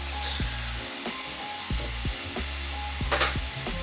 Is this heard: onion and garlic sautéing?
yes